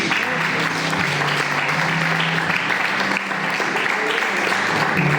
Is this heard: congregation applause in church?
yes